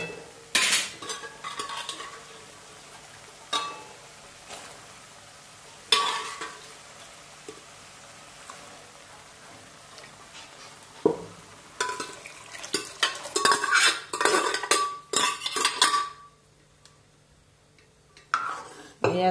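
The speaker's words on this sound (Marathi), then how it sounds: "याला छान असं मिक्स करून घेऊ।" Kidney beans being stirred into fried masala in a pan for rajma curry, with intermittent scraping clinks of a spoon against the pan over a soft sizzle, the bursts irregular and close.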